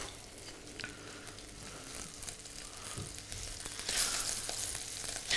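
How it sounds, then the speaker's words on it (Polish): Salmon fillet sizzles in hot butter in a frying pan, a steady crackle and spatter that grows louder toward the end, with a few soft scraping stirs and no talking. "Na rozgrzane masełko dodamy kurki, ale to chwilę poczekamy jeszcze. Niech się porządnie rozgrzeje. W tym czasie odwrócę rybkę."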